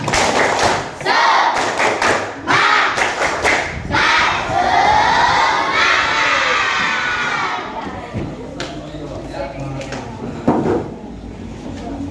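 Schoolchildren in an Islamic primary school classroom perform the tepuk semangat spirit clap, with loud rhythmic clapping and thumps under shouted group chanting that fades toward the end.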